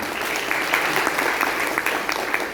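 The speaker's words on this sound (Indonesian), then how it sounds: "Beri tepuk tangan buat Anda semua" A seminar audience at a leadership sharing event in Semarang claps together, a brief, close, lively burst of many hands with distinct sharp claps throughout.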